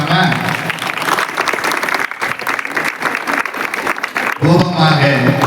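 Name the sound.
audience applauding the college management and teachers at a Pongal festival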